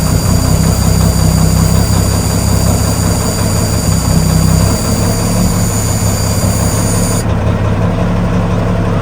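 An old truck being readied for a truck show idles with a loud, steady low rumble that runs unbroken and evens out, with no one talking.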